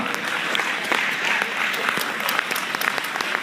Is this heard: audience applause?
yes